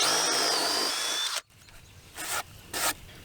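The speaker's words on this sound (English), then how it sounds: "I've got a 5/8 Forstner bit, and I'm just going to drill a hole right here in the middle" A power drill spins a 5/8-inch Forstner bit into a wooden bottom plate, a steady high whine for over a second that stops abruptly, followed by two short bursts of drilling, close and clear.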